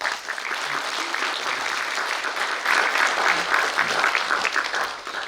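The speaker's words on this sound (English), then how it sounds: "A big round of applause for him." An audience claps steadily for several seconds, a dense wash of applause that swells slightly toward the middle.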